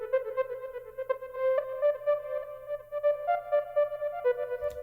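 A mid-range synth plays a wandering melody of sustained and sliding notes over a soft low drone, ending in a short noisy swell.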